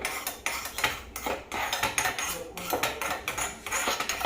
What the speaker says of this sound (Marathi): इकडे मी तडका पॅन ठेवलेला आहे गॅसवरती त्यावरती आपण करणार आहे तर थोडंसं मी तेल टाकून घेते मैत्रीण तर तेल सगळीकडं पसरून घ्यायचं आहे